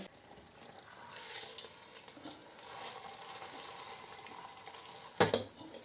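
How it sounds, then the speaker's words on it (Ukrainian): Pork sizzles quietly in a multicooker with a soft, steady crackle, interrupted near the end by a short, sharp clatter. "Вже шкварчить, так смажиться наше м'ясо."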